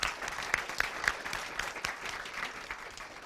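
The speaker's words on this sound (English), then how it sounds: "Give him a round of applause." Audience applause at a school district spelling bee, a steady wash of clapping with a few sharper claps early on, moderately loud and continuous for about three seconds with no talk.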